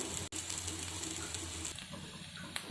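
Bitter gourd pieces fry in a pan with a steady, close sizzle that fades a little midway and carries a few faint clicks of stirring.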